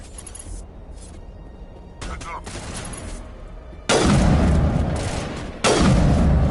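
Sniper rifle shots in Mass Effect 1 sound as a few loud, sharp blasts, each followed by a trailing boom. A softer shot comes early, then two heavy reports spaced apart.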